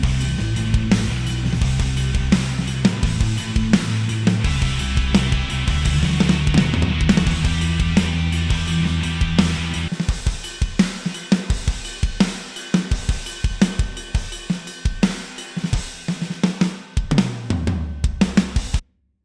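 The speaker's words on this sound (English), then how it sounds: "It's a high quality multi-sampled drum instrument," A Bogren Digital Krimh Drums Free Edition multi-sampled drum kit plays a dense groove with booming kick and toms, crashing cymbals and snare hits, then a sparser run of punchy, separated hits ending abruptly.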